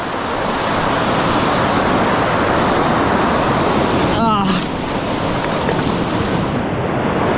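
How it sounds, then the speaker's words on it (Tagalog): A waterfall at Mauban, Quezon roars in a steady, loud wash of rushing water that fills the whole clip, with a brief spoken exclamation partway through. "Ang ganda ng falls."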